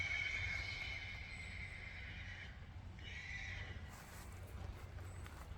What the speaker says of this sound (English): I don't know what my horse is hollering about.